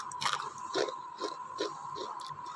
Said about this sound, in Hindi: इतने क्रंची कुरकुरे मैंने कैसे बनाए हैं